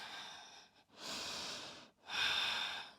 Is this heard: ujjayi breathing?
yes